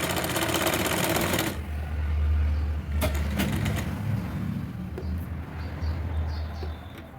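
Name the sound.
sewing machine stitching a frock sleeve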